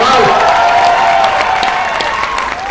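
Audience at a Hindi poetry recital on the army breaks into loud, sustained clapping and cheering close by, a dense wash of applause with scattered whoops, while a sustained voice-like tone runs underneath.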